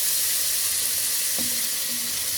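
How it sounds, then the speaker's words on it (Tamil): Onions sautéing with salt in a pan for a mushroom biryani, giving a steady, close hiss of sizzling with one or two faint clinks partway through, with no voices. "பாருங்கள், வெங்காயம் இந்த அளவு வதங்கினா போதும்."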